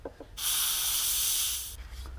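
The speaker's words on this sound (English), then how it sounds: "I'm gonna spray it with matte finish" A single sustained hiss of an aerosol can spraying matte finish onto a model, lasting over a second, close and loud, preceded and followed by faint clicks.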